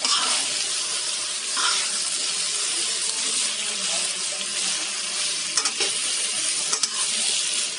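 Pancit bihon rice noodles tossed into a hot pan with shrimp and chicken, giving a steady loud sizzle and hiss with scraping stir strokes throughout.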